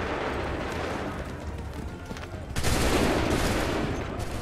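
Musket volley fired on command in the video game Assassin's Creed III: dense, sustained rattling gunfire, louder and fuller in the second half, with no pause between shots.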